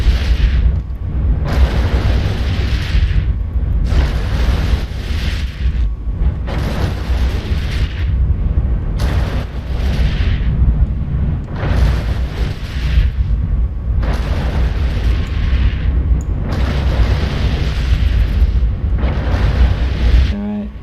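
Battleship-size turrets firing in the space game EVE Online, a steady series of loud booming volleys roughly every second or two, dense and continuous with brief gaps between salvos.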